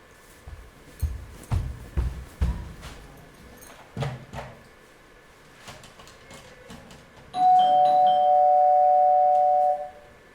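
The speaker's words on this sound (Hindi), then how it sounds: "मैंने घंटी बजाई थी" Indoor scene with scattered knocks and shuffling thuds, then an electronic doorbell rings out loud and clear for about two and a half seconds, a sustained chime ending abruptly.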